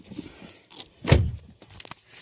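A car door on a 2013 Dodge Avenger shuts with one solid thump, preceded by faint rustles and small handling clicks, with no talking.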